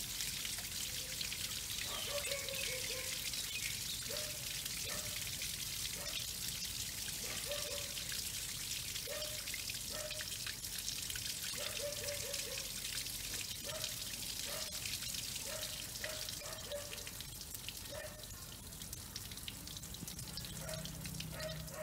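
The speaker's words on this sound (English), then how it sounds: "So that water is exiting the filter." Chlorine water drains out of an Aquablock water filter in a steady trickling, pouring flow with recurring gurgles and drips, continuous and fairly close throughout, with no talking.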